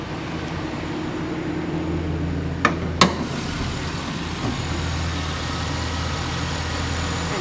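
A 2008 Chevrolet Silverado's 5.3 liter Vortec V8 idles steadily under the open hood, a low even hum with two brief sharp knocks partway through.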